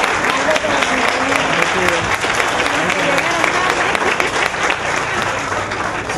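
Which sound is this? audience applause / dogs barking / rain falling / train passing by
audience applause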